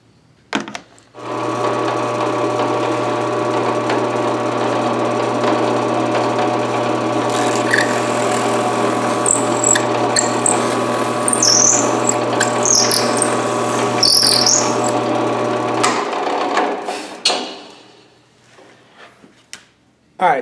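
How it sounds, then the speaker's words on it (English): A power drill boring alignment pin holes through a guitar body template for a vintage Stratocaster replica, running as one long steady whine and hum for about fifteen seconds before spinning down, with faint bird chirps in the background. "we are going to drill 2 holes for our off-body alignment pins right here and right here approximately"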